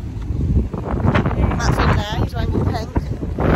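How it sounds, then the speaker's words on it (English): Wind buffets a microphone outdoors on a misty, drizzly day at a balloon fiesta, a low rumbling roar running steadily under close conversation. "It's a bit windy and there's like fine misty rain in the air"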